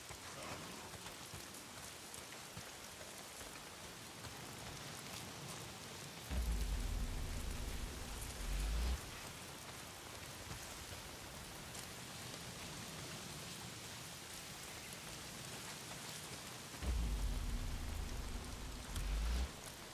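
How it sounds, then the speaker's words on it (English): Steady rain falls across a Days Gone game scene, a continuous hiss of drops on surfaces with two heavier low rumbling surges, no voices. "Damn rain. If it's not the freaks, it's the goddamn rain."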